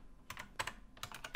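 Faint keystrokes on a computer keyboard come in a few quick clusters of taps, close by in a quiet room.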